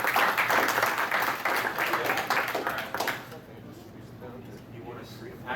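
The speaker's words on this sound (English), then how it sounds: "Give a round of applause though" An audience at a PortConMaine 2019 anime convention game show, Pass the Yen, gives a brief round of applause that fades out after about three seconds, followed by quieter talking.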